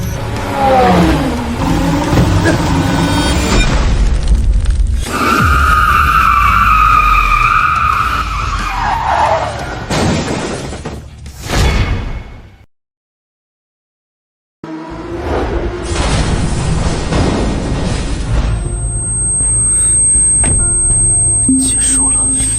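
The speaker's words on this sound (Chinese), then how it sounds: "江晨退赛了，轮胎爆胎" Race car in a televised race suffering a tyre blowout and crash, with loud, sustained screeching and roaring across the clip, broken by a brief silent gap before the tumult resumes. Voices speak over parts of it.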